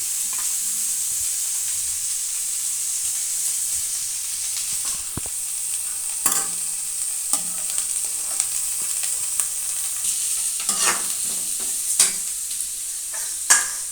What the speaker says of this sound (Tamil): இப்போ பார்த்தீங்கன்னா முட்டைக்கோஸ் வந்து நல்லா ஓரளவுக்கு வதங்கி வந்திருக்கு